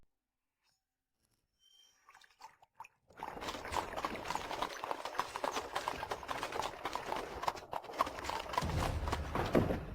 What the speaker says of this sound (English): this horse is old and weak, and it likely has no strength to carry you further